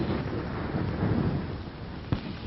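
Low, rumbling roll of thunder, moderately distant, steady for a couple of seconds with a faint crack near the end.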